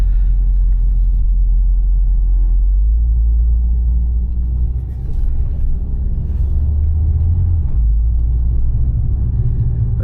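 A 2012 Ford Focus with a dual-clutch transmission drives on a cold day, its low engine rumble steady and loud inside the cabin, with a brief dip near the middle as the gearbox shifts smoothly before the drone resumes.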